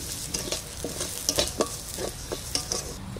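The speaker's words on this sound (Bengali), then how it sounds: "মাছ ভাজা কড়াইতে দিয়ে দিচ্ছি।" Fried bhetki fish sizzles in a hot wok while being stirred, a steady crackling hiss broken by repeated sharp scrapes and clinks of a spatula against the pan, close and without talk.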